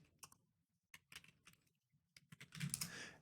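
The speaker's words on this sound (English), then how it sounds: "If I could type." Typing on a computer keyboard during animation software work, heard as scattered light key clicks in short bursts, ending in a denser, louder flurry of keystrokes at close range.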